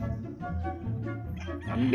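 A dog gives a few yips and whimpering barks amid people talking nearby, somewhere outdoors among houses with chickens and goats around.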